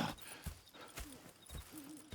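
Horses in Red Dead Redemption 2 clop along with soft, uneven hoofbeats, a faint snort or whinny rising briefly through the quiet ambient background.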